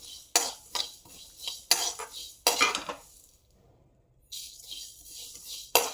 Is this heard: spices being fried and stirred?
yes